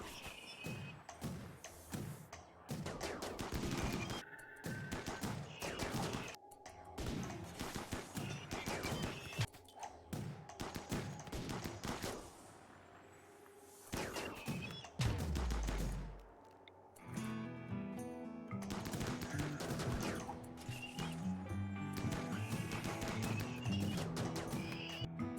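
Battle against mechanoids in Rimworld, with repeated bursts of machine-gun fire and scattered single shots and thuds over many seconds, a short lull midway, then more steady firing, fairly quiet overall and without voices.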